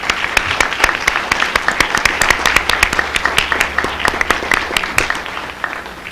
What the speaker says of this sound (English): Please join me in a round of applause for our candidates.